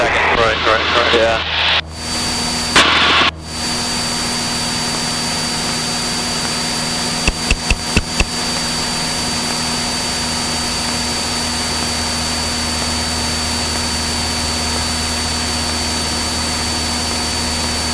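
A light airplane's piston engine drones steadily at full power during a flight lesson, a loud constant hum filling the cabin after a few brief bursts of talk and clicks at the start.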